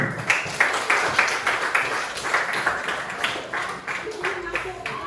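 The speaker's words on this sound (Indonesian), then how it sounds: "Silakan berikan aplaus." Applause from an audience at a teacher training session, a sustained patter of claps under a speaking voice, moderately loud and steady throughout.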